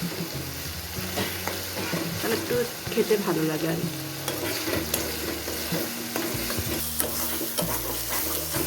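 Lote fish frying in a pan for a bhuna curry, a steady sizzle with stirring and scraping all the way through, close and moderately loud, with a few words of talk mixed in.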